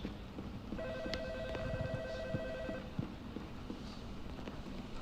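A telephone in a hotel horror video game rings with a steady electronic warble lasting about two seconds, faint under background ambience and scattered clicks.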